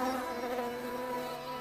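Honeybees buzzing in an animated lesson about a hive, a steady close drone holding unbroken throughout.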